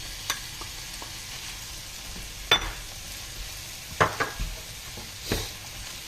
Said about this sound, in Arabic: غادي نبدا كنخلط مزيان وانا كنحرك.